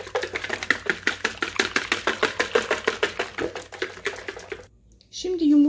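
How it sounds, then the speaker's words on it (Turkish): Two eggs being whisked briskly in a mixing bowl, a fast, even run of clinking taps for about four and a half seconds. A short pause follows, then a voice begins speaking. "2 tane yumurtamı kırıyorum. Ve çok güzelce yumurtamı çırpıyorum."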